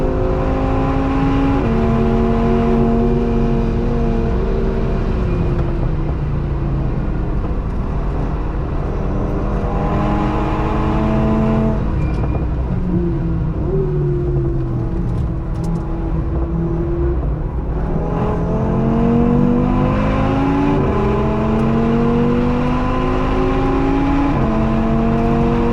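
Race cars warm up at the Nürburgring, engines droning and revving in overlapping pitch sweeps that rise and fall steadily for the whole stretch, loud and continuous.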